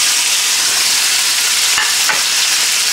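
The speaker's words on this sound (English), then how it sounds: "start that pan with just a little grease, just to get your bacon going" Bacon frying in olive oil in a pan: a loud, steady hiss of sizzling fat fills the whole clip, with a couple of brief scrapes or pops near the end and no talking.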